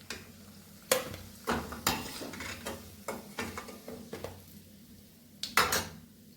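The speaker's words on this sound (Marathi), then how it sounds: "आता हे आपण एका प्लेटमध्ये काढून घेऊया." Fried bread pakoras are lifted from hot oil onto a plate, with scattered clinks and taps of a metal utensil against the pan and plate over a faint frying hiss.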